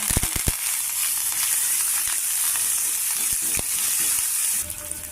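A tempering with curry leaves, green chillies, chana dal and chillies frying in hot oil, crackling pops at first then a constant bright sizzle with a few stir clicks, close and loud.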